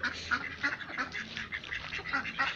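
Ducks in a breeding enclosure with two ponds quack repeatedly in short, close bursts, several birds calling over one another in a busy, uneven rhythm.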